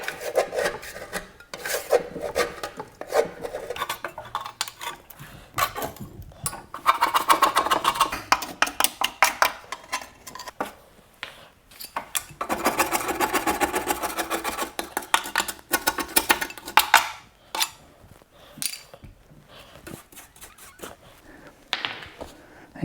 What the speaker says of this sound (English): So just scrape that off.